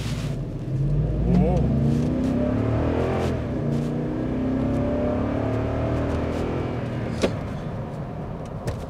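Cadillac Escalade SUV engine while being driven gently, a steady low hum and whir from inside the cabin with brief revving swells, and someone talking over it throughout.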